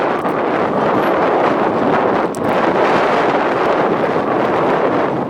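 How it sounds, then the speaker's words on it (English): Wind sweeps across a Danish harbour and through the masts of moored boats. A loud, steady rushing gust buffets the microphone, with a faint high whistle over it and one brief dip midway. "Listen closely to the sound of the wind."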